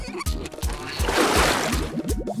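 Water sloshing and splashing as clothes are washed by hand, a steady run of rhythmic splashes with a fuller wash of water noise in the middle, close and alone without talk.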